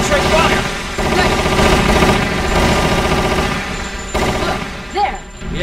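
Rapid gunfire and fusillade bursts from a Resident Evil: The Umbrella Chronicles game scene fill the mix continuously, loud and dense, with a short gap near the end, under game voices talking.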